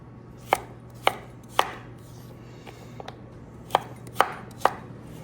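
Vegetables for chicken tortilla soup are chopped on a cutting board, six sharp, close knife strikes landing at uneven intervals over a low steady hum, with no talking.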